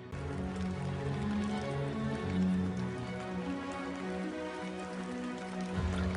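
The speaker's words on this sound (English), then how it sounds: "Rain falls incessantly throughout the Amazon's wet season." Rain falls steadily in the Amazon rainforest during the wet season, a continuous wash of drops on surfaces with a low background rumble throughout.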